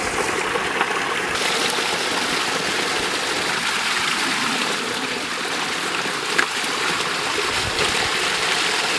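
Water runs steadily from a hose or tap into a 5-gallon bucket, a continuous loud rushing splash with no speech over it.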